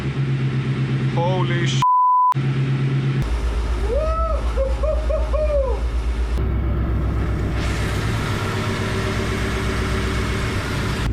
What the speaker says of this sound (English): So great news, we got the engine running.